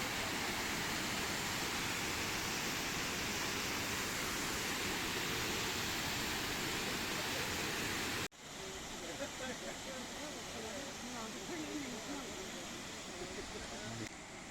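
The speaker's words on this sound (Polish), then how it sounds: "oto on, wodospad Wilczki" Steady broadband rush of the Wilczka waterfall in Poland, a loud continuous roar of falling water, briefly cut and resuming slightly quieter and rougher.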